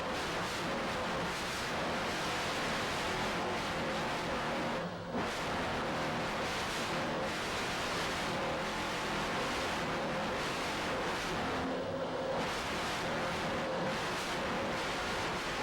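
A brand new 46-foot Skater powerboat racing at Key West, its engines giving a continuous dense roar mixed with rushing water and wind, steady and loud throughout with only a brief dip.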